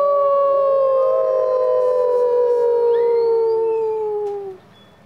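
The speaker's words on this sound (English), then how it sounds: "Behind him on the path, a wolf howled." A wolf howl sound effect for a mountain story, several long overlapping wavering howls sliding in pitch, loud and close, holding for several seconds before cutting off into near silence.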